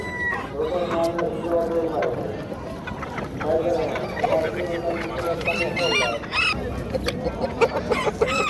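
A black rooster and other fowl cluck and crow at a busy bird market in Namangan, the calls mixed with steady crowd noise and nearby voices talking throughout.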